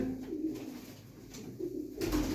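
Soft, low coos from a young pigeon repeat a few times against a faint background hiss, fairly close and without any talking.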